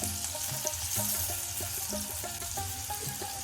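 Chopped garlic and cumin seeds frying in hot oil, a steady close hiss and crackle that runs unbroken throughout, with a faint tonal hum beneath.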